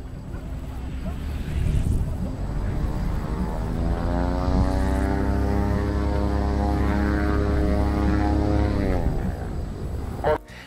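Airplane propeller engine roaring during a rough landing, a loud sustained drone that rises and falls in pitch with wind buffeting, ending in a sharp thump near the close.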